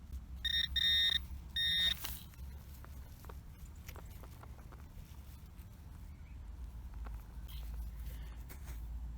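Two short bursts of electronic beeping from a metal detector passing over a buried target in a 1950s home's yard, sharp and close at the start, followed by quiet digging and rustling.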